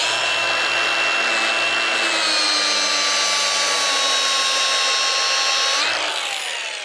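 A power sander grinds down a stainless steel butt weld with 80 grit abrasive, a steady loud whirring hum that holds for several seconds, shifts pitch slightly near the end and begins to wind down.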